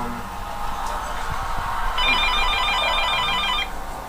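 A telephone rings faintly for about a second and a half, a thin electronic trill sitting over a steady background hum, with no voices.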